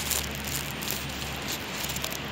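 Steady rain pattering on a surface nearby, a dense even hiss with no voices.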